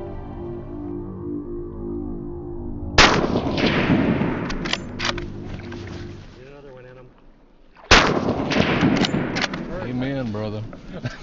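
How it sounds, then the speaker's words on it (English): Two loud, sharp rifle shots during an Alaska black bear hunt at roughly 170 yards, fired a few seconds apart over a low steady hum. Each crack booms and decays, and faint murmuring voices follow. "The first shot was good, and you could hear that Accubon whomp for sure"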